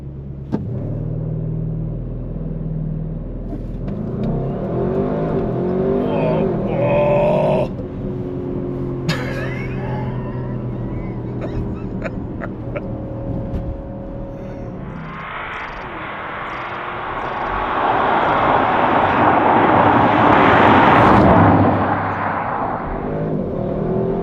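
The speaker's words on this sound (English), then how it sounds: "we're going to put traction control fully off. I'm in sport change box, and we're going to do a bit of a launch control." An Audi RS6 Performance estate launches hard with traction control off, the engine note rising through rapid gear changes, then a loud roaring acceleration surge near the end; no talk.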